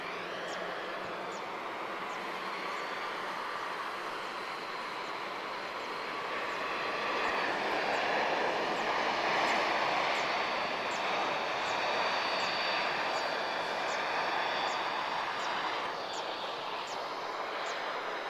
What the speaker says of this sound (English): Smartlinks. A320 arriving from Espargos.